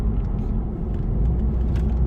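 Jaguar X-Type car cruising near the speed limit and accelerating in fourth gear, a continuous loud low engine and road rumble filling the cabin with no break.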